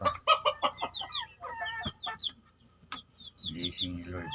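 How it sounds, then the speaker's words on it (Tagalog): Several chickens cluck and squawk close by in a backyard flock, with irregular bursts of short calls, brief pauses, and a louder cluster of clucks near the end. "Ito yung higanti kong manok."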